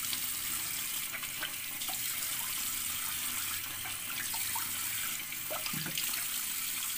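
Water runs from a bathroom tap while a face mask is rinsed off, a steady hiss of flowing water with faint splashes and small clatters throughout.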